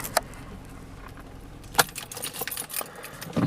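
Keys for a 2023 Kia Forte 2.0 L jangle in the hand, scattered metallic clinks and rattles building to a busier shake near the end, close and clear with faint background hum.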